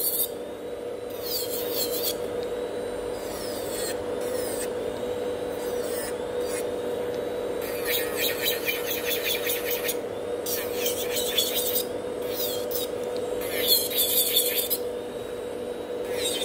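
A hand file rasps back and forth across natural fingernails at a nail salon, the scratchy strokes coming in bursts and pauses over a constant low hum.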